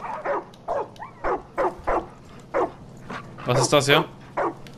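Dogs bark in short, repeated yaps in the video game Far Cry 5, about a dozen bursts in quick succession with a cluster near the end, while someone speaks in German over them.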